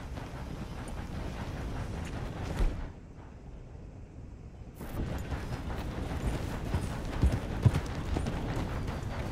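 Horses carry riders along in the western game Red Dead Redemption 2, steady clip-clop hoofbeats under wind and rumbling ambience, dropping away briefly partway through before resuming, moderately loud throughout.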